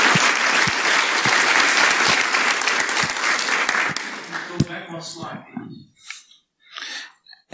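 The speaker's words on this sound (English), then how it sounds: "first applause for Damilare" Audience applause after a conference talk on usable IoT security: dense, loud clapping fills the room for about four seconds, then thins into scattered claps and quiet voices.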